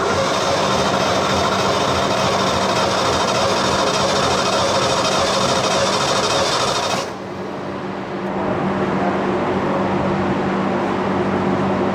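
A 1977 Ford F250 truck engine with no coolant runs loud and steady with a rough, rumbling drone, then dips briefly in intensity around midway before settling back into a continuous running sound.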